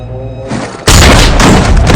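A gunshot rings out in a film scene, one sudden loud boom cutting in after a quieter tonal passage, then a sustained, dense blast of noise that fills the rest of the moment.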